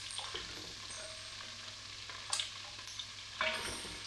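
Lamb pieces on the bone browning in a pan for a spring navarin, a quiet steady sizzle with a few soft scraping stirs and no talk.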